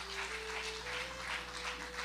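A church congregation claps steadily for the Lord, a faint, continuous wash of many hands with a soft rhythmic pulse and a low steady hum beneath.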